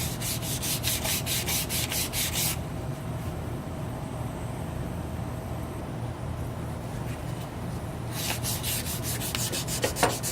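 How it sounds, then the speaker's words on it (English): Steady rhythmic rubbing strokes of hand sanding on a wooden chef knife handle, close by, with a quieter stretch in the middle and no voices. "most of my contouring is actually going to be done via hand sanding"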